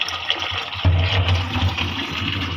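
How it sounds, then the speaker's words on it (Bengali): Leafy greens being washed under running water, a loud continuous close gush of water with splashing and shifting as the leaves are handled, no voices. "এখন আমার শাকগুলোকে ভালোভাবে ধুয়ে নিচ্ছে।"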